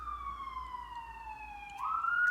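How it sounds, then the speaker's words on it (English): An emergency vehicle siren wails outside, heard at a distance and fairly faint, its tone sliding slowly down and then sweeping back up near the end. "It's always some sirens going on"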